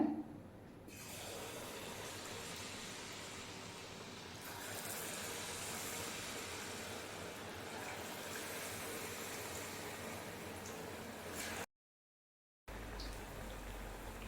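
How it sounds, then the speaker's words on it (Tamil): Batter-dipped banana slices for pazham bajji dropped into hot oil, giving a steady, continuous frying hiss and bubble at close range, with no talk. "எண்ணெய் நல்லா சூடானதும் டிப் பண்ணி வச்சுருக்குற வாழைப்பழத்தை எண்ணெயில் போட்டுக்கோங்க"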